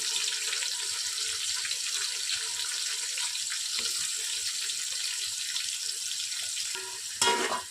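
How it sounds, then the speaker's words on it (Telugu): Two medium onions sizzle in hot oil with whole spices for a vegetable biryani, giving a steady crackling hiss that stays fairly quiet, with one brief louder burst near the end and no talk. "ఆనియన్స్ని బాగా గోల్డెన్ కలర్ వచ్చే వరకు వేపుకోవాలండి"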